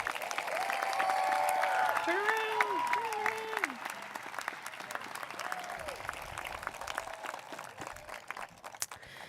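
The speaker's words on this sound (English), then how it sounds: "Can I have one big round of applause for these students?" A graduation audience bursts into sustained applause for the 2019 graduating students, a dense wash of clapping and crowd noise that is loudest early on and gradually thins, with some voices rising over it.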